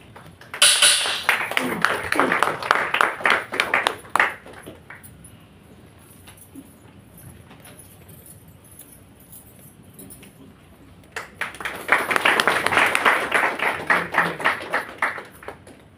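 A church congregation claps to welcome Reverend Geddam Raju onto the stage. Bursts of dense applause come at the start and again near the end, with a quieter stretch between them.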